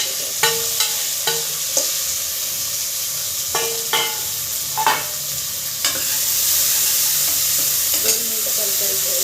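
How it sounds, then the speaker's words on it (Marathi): Tomatoes sautéing in a pan for methi dal, a continuous gentle sizzle broken by a series of spatula scrapes and knocks against the pan, close and moderately loud, no talking. "1-2 मिनिटं परतून घ्यायचं टोमॅटो."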